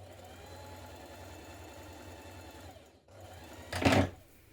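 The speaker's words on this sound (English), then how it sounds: "On a large stitch, sew a line of ease-stitching around the top curve of your sleeve." Sewing machine running a long line of large ease-stitching around the top curve of a jacket sleeve, a soft steady whirring hum close by that pauses briefly, restarts, then ends with a louder burst of rattling.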